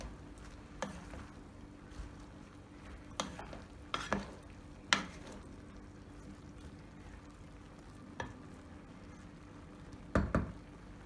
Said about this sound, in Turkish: Fasulyemizi karıştıralım.